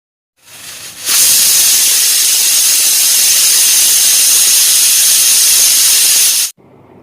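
A pressure cooker of bananas covered in water lets out a loud, steady jet of hissing steam for about five seconds before cutting off sharply, with no talk over it.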